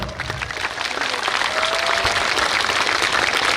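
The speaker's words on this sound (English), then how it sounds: "Just give them a round of applause." Audience applause at an evening event swells from moderate to fuller clapping and holds steady, a brief tone or whistle rising midway.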